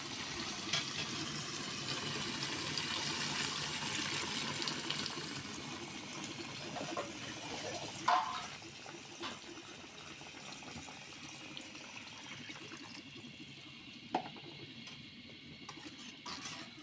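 Water pours into a pan of fish curry to make the gravy, a steady gushing splash running for several seconds before thinning into faint bubbling and simmering, with a couple of sharp clinks along the way.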